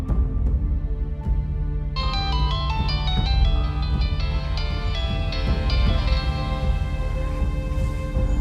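A bright electronic ringtone starts after a couple of seconds and repeats its melodic pattern steadily over a low background rumble.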